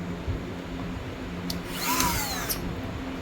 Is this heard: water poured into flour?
no